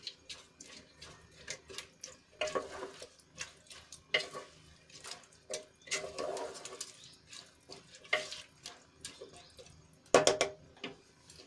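Pulao masala and chopped coriander are stirred into potato and pea pulao in a pressure cooker, producing soft, irregular scraping and clinking of a spoon against the pot, close and fairly quiet.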